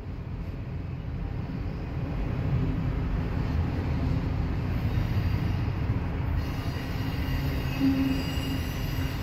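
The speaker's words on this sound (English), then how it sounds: "Hopefully I'll be seeing the end of this train anytime soon." A long freight train rolls steadily past at close range, a dense continuous rumble of wagons on rails with occasional thin wheel squeals rising over it, no voices.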